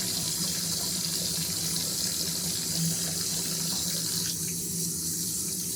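Tap water pours steadily into a sink while underwear is rinsed by hand, a continuous close hiss and splash with no pauses.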